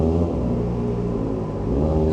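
A Kawasaki ZX4RR motorcycle engine revs with a steady, loud, close rumble, its low tone holding fairly even for about two seconds with no talking.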